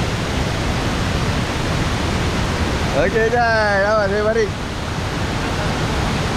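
A waterfall at Sungai Kereleng campsite produces a loud, continuous rushing roar that fills the whole stretch. Someone speaks briefly partway through.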